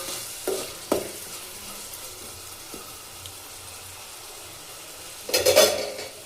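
A spoon stirs drumstick curry with tomato pieces in a pan, giving a few soft scraping knocks early, then a louder clatter of stirring near the end over a faint background hiss.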